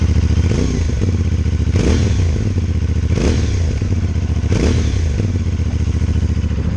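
A CFMoto 450SS motorcycle engine with stock exhaust runs steadily at close range with a fairly mellow, moderate exhaust note, rising in a few periodic revs and clatters.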